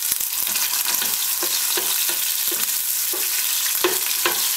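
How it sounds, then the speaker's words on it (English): Chopped onions frying in hot oil for Nigerian beans, a steady loud sizzle with sharp crackles and spits popping through at irregular intervals, no voices. "The chopped up onions go inside the oil, they start to get fried"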